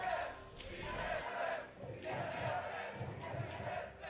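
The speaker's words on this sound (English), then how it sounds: "The fans, a little confused about what they're cheering for" Esports arena crowd at a League of Legends match cheering loudly and steadily, a broad roar with swells, mixed with commentators' voices talking over it.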